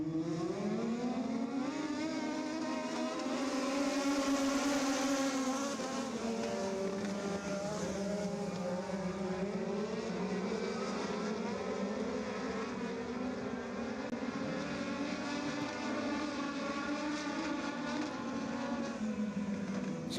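Legends race cars lap Ocala Speedway in a heat race, a sustained, fairly distant engine drone that rises and falls in pitch as the cars circle the track.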